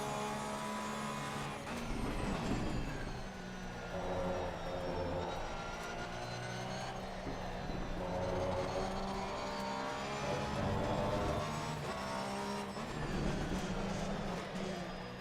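A Porsche race car lapping a circuit, its engine droning loud and steady with rising and falling revs as it brakes into corners and accelerates out, under continuous talk.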